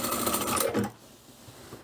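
A sewing machine runs briefly while stitching a seam in fabric for a large drawstring laundry bag, a dense buzzing burst that stops abruptly partway through, leaving quiet room tone.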